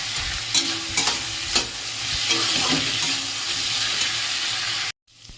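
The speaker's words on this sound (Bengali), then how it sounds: "যে পেঁয়াজটা অ্যাড করে দিয়েছি যেহেতু আলুটা একটু একটু সেদ্ধ হয়ে গেছে" Onions added to partly cooked potatoes frying in a pan sizzle loudly as a utensil scrapes and clatters several times, then the sound cuts out abruptly near the end.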